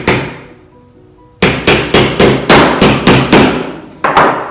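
Nails hammered into a wooden painting frame against a canvas, a quiet lead-in followed by about nine loud, sharp hammer blows in steady rhythm, then one more strike after a short pause, close up.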